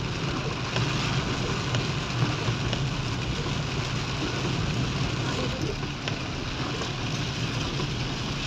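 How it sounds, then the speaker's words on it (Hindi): Heavy rain falling near Palshe Waterfall outdoors near Pune, a dense continuous hiss and patter with wind noise, steady and loud throughout. "आप देख सकते हो कितनी बारिश पड़ रही है, मतलब गिर रही है।"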